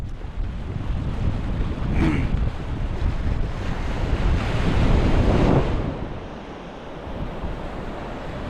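Sea waves roar steadily on a remote twin beach at Bagda–Dublagadi, with gusty sea wind buffeting the microphone; surges swell and fade over several seconds, loud and continuous with no talk.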